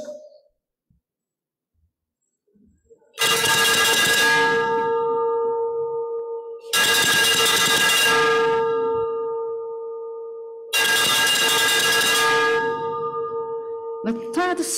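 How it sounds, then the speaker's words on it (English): Signal bell at a ship launching ceremony for a Philippine Coast Guard 97-meter multi-role response vessel, struck in three long, loud ringing bursts with bright overtones that linger between strikes, with no talk over them. "The third signal bell was rung."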